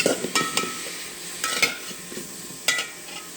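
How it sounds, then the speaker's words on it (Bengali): Bathua greens fry in mustard oil in a pan, a soft continuous sizzle broken by several sharp scraping stirs of a spatula, close and without talk. "তেলটার মধ্যে আমি শাকটা কিছুক্ষণ ভেজে নিব"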